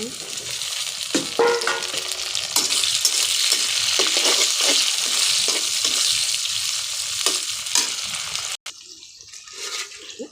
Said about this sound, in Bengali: এই তো ভাজিতে মরিচগুলো দিয়ে দিব।